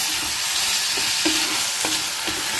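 Green beans stir-frying in a pan give off a loud, steady sizzle, with a few spatula scrapes spaced through it, close up and with no voices.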